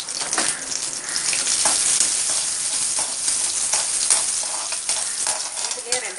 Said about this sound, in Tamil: இப்போ கடுகு பொரிஞ்சிருச்சு.